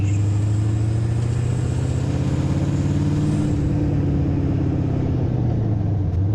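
An LS-engined sandrail held at quarter throttle on a dyno gives a loud, steady, deep exhaust roar with a faintly rising and falling engine pitch that runs close and continuous throughout, with no voices.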